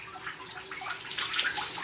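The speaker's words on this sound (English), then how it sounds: "And our hot water there." Hot water runs steadily from a bathtub faucet fitted with a newly replaced Moen tub/shower valve, a soft continuous splashing hiss heard close up with no talking.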